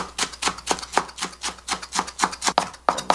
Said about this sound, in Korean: 전부 다 잘게 다지겠습니다